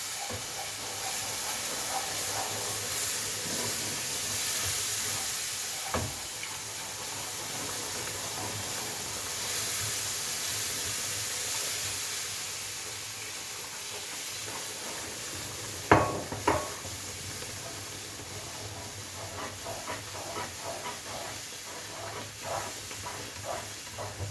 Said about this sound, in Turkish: Şimdi kaynayan şerbetimizi aşama aşama döküyoruz